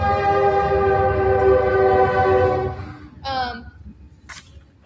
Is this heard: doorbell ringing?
no